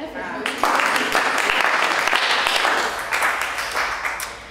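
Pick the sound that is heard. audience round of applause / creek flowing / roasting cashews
audience round of applause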